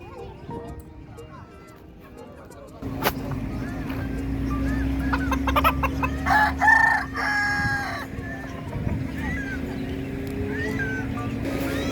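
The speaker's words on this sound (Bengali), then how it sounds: "এখানে বিভিন্ন ধরনের হাঁস, মুরগি, তিতি পাখি, কবুতর, টার্কি এসব পাওয়া যায়।" Roosters crow and chickens cluck at an open Friday poultry market in Kuwait where ducks, pigeons and turkeys are also sold; a steady low hum underlies several mid-distance crows, and a person speaks over the calls.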